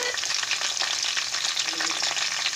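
Onions fry in a pan on a home stove, giving a loud, dense, continuous sizzle and crackle close by with no talk.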